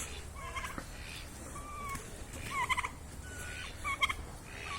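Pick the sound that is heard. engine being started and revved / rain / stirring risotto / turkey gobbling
turkey gobbling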